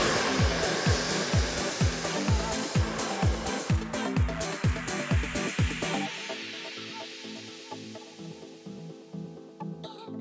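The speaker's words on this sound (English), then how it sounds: "you guys can see we've completed the blow dry thus far" A hair dryer blows steadily up close while hair is blow dried for volume, its whine pulsing rhythmically as it moves, then easing into a softer, steadier hum.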